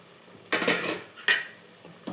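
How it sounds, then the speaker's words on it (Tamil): Sautéed brinjal tipped into a pan and stirred for a spicy brinjal kara kuzhambu: two loud, close bursts of metal scraping and clatter about a second apart, then a few fainter knocks, with no talking. "இப்போ நம்ம வதக்கி வச்ச கத்திரிக்காவை அதில் போட்டுக்கலாம்."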